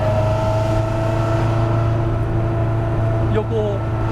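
Alpine A110 sports car engine pulling steadily as the pedal is pressed, a loud sustained hum with tonal drone heard from inside the cabin, a faint rising whine near the end.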